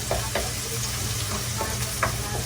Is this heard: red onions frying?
yes